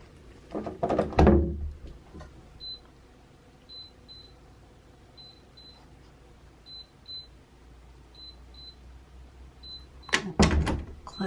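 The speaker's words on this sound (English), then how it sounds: "Now, if I open the door, see what happens." A door opening and later closing in a room fitted with a UV germicidal light, two clunks with a quiet stretch between where a small beeping repeats faintly.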